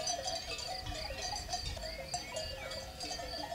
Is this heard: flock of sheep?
yes